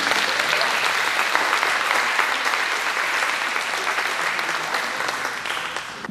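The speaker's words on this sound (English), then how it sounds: "Let's give a big round of applause for Carolyn Joyce." Sustained audience applause at an event celebrating young women in sport, dense and steady clapping from a large crowd throughout, tapering slightly toward the end.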